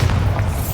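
A Bombarda blasting spell explosion in a Hogwarts video game, a single loud, deep, sustained boom rumbling through the whole short moment with no voices.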